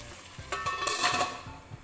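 Chicken sukkha being stirred and frying in a pan, with soft sizzling under a few scraping, clinking strokes of a spoon against the pan, close up and fairly quiet.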